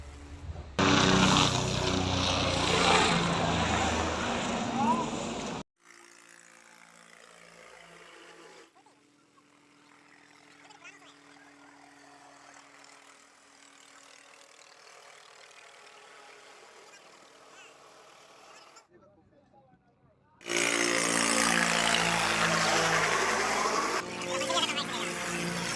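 A helicopter flies past snowy mountains on the Char Dham pilgrimage route. A loud rotor and engine roar fills the start and end, and a quieter, muffled drone runs through the middle.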